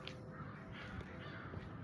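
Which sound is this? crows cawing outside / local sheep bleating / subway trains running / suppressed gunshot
crows cawing outside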